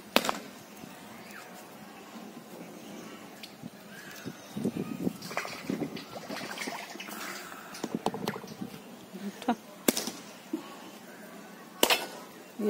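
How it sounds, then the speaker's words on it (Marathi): Outdoors near water, a large fresh coconut takes repeated blows to crack it open: a few sharp, isolated knocks stand out over quiet ambience, with softer rustles and handling noises between them. "मस्त. आता फोडा नारळ."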